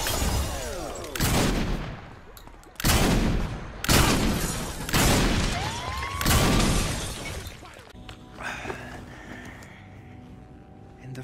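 Bursts of heavy gunfire and shattering impacts from Saints Row 4 video game combat, several loud volleys in quick succession aimed at the player, fading to quieter debris and ambience at the end.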